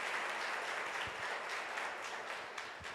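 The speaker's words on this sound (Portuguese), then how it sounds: "uma salva de palmas para ela." An audience at a talk on autism and disabilities gives a round of applause, a dense, continuous patter of many hands clapping throughout, steady and fairly distant.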